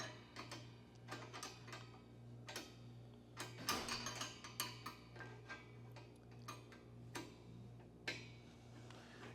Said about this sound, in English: using my socket wrench from the bottom, I'm going to go ahead and get that tightened down really well